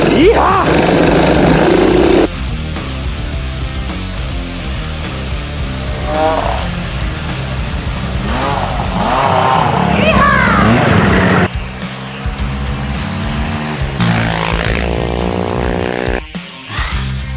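A 2010 Yamaha YZ450 dirt bike with a faulty kick-starter and hard starting, kicked over and revving loudly up close, with engine roar and sputtering bursts that rise and fall and a voice talking over it.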